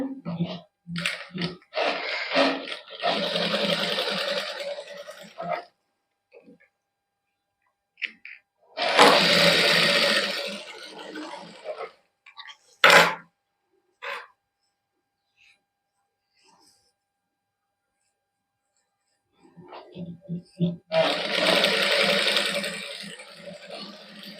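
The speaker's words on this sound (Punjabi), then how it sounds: "ਫਿਰ ਸਲਾਈ ਲਾਤੀ ਇਹਦੇ 'ਚ ਫਿਰ ਇਸ ਤੋਂ ਅਗਲੇ ਦੇ ਵਿੱਚ" A sewing machine stitches a lace strip onto a suit in three separate runs of steady, close mechanical whirring, with quiet pauses between the bursts.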